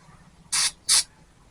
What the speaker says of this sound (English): Spray a little carb cleaner down here